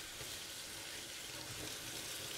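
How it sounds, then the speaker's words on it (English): Tap water running over a Ninja Foodi grill splatter guard in a sink, a faint steady hiss and splash that continues evenly throughout with no talking. "I'm just going to let that water run for a bit"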